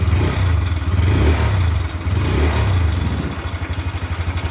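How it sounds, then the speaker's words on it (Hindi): A motorbike engine putters and revs close by for a few seconds, a steady mid-pitched drone with a pulsing, throbbing rhythm toward the end, setting off on a ride to a law college in Mumbai. "बाइक स्टार्ट करी और निकल पड़ा लॉ कॉलेज के लिए।"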